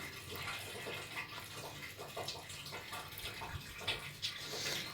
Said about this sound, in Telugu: ఇక్కడ మాకు వర్షం పడుతుందండి వర్షం పడుతుంటే డాబా పైనుంచి వాటర్ వస్తున్నాయి